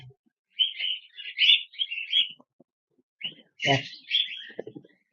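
Cockatiel chicks and their parents chirping in a cage, with bright, high chirps in two bursts separated by a short pause, close and fairly clear, with light handling noises underneath.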